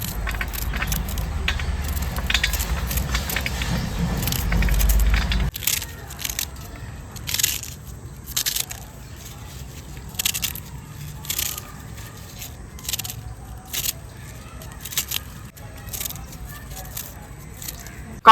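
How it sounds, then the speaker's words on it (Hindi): A knife finely chops a pile of saag greens on a cutting board, giving a steady run of quick, close cuts after a low rumbling opening. "और अब हम इस साग की कटाई कर लेते हैं"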